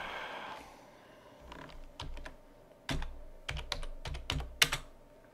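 Keys of a computer keyboard tapped while typing a line of Django template code, in irregular bursts of crisp, close clicks that grow busier toward the end, with no talking.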